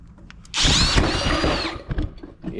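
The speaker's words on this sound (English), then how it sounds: "Just ripped the drill in my hand." A power drill whirs loudly for about a second and a half while working on the recoil starter of a Honda GX240 engine from a go-kart, with softer clatter and handling noise before and after.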